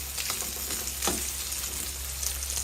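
Unmarinated chicken breast deep frying in hot oil, a steady close sizzle with occasional louder crackles and spatters.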